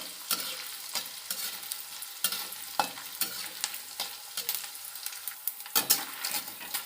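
Edible gum (gond) fries in hot ghee over a medium flame with a soft, low sizzle. Frequent quick scrapes and taps of a stirring spoon in the pan sound close by, with no talk.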